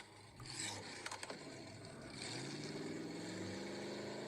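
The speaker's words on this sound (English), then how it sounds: "revving his engine in the background, which is hilarious" Faint scraping and clunks, then a car engine with a straight-pipe exhaust revs up in the background, its pitch climbing steadily as it roars on.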